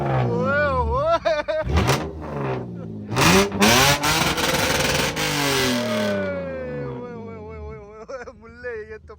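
Car fitted with a Marko straight pipe exhaust, only half the pipes installed, revving hard close by with rising and falling loud blasts, while voices shout and talk over the engine.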